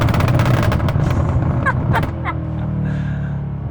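Mercedes-Benz E 63 S AMG turbocharged engine revving, a loud deep roar in the first half with sharp exhaust pops, then settling to a quieter rumble.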